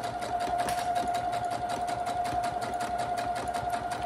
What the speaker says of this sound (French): donc là je continue, je couds tout le long